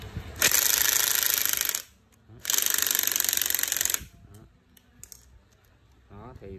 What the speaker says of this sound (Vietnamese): Đây mình sẽ test búa cho anh em coi ha